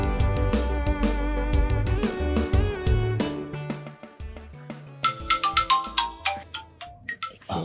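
A phone ringtone plays as a melodic, repeating electronic tune, loud and close, with no talk over it, in a Nigerian drama scene.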